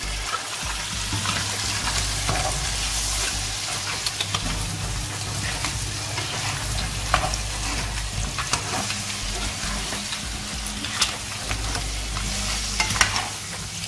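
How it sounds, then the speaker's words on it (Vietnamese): Crab and garlic are stir-fried in a hot wok, tossed with a spatula: a constant loud sizzle with frequent scraping and clattering strokes close by, and no talk. "Các bạn dùng sạn các bạn chở đều ha."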